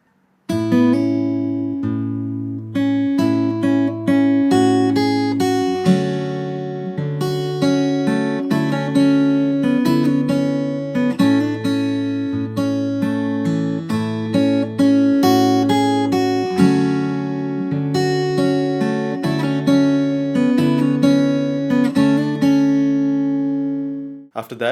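Fingerstyle acoustic guitar plays the verse of a song, with a steady bass line under melody notes and chords, continuous and close for nearly 25 seconds before ringing out at the end.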